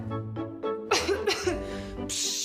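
A few wet, chesty coughs in a row, loud and close, followed by a breathy rasp at the end.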